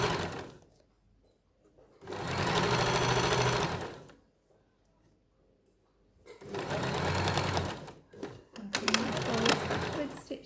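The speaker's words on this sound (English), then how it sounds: "I've sewn around the waistband now with a straight stitch" A sewing machine runs a straight stitch around a pyjama waistband in two steady bursts of a couple of seconds each, separated by quiet pauses, with a short stop-start patch at the end.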